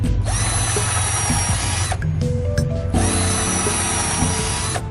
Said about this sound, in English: Pre-drill that